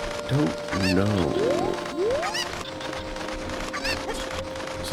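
Chickens (cuccos) in Zelda: Ocarina of Time give several quick clucks and rising squawks early on, with a few more scattered later, all over looping game music.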